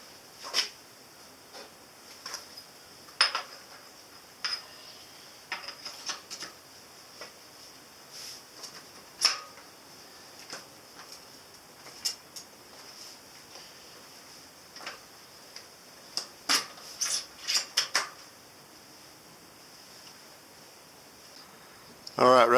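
A 2018 Motobecane Boris FS NX1 full-suspension bike has its front axle slid in and fitted, producing scattered sharp metallic clicks and ticks at irregular intervals against a quiet background.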